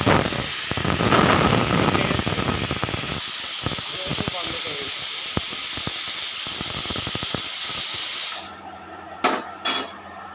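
Fish fries loudly in hot oil in a home kitchen, a dense, continuous sizzling hiss that suddenly quiets, leaving a few faint pops and clinks.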